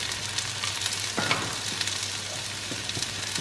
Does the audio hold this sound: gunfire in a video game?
no